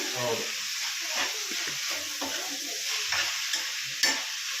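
Chicken fries in a pan with a steady crackling sizzle while a handful of mint is stirred in, with scraping spoon strokes and occasional louder pops, close up.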